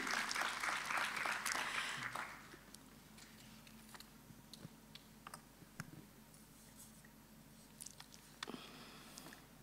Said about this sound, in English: Warm applause to Ellen.